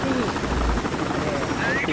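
A helicopter in Sniper Ghost Warrior Contracts 2 roars loud and close, its rotor thumping in a fast, steady throb that fills the whole stretch, with a voice speaking over it.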